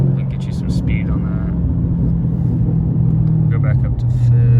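A Dodge car's engine revs up after a paddle-shift downshift, a loud rumbling drone whose pitch climbs toward the end, with a person talking over it.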